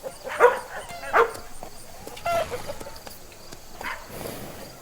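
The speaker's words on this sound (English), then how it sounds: "Dog." A dog barks several times in short, separate bursts, fairly close and clear, with quiet gaps between the barks.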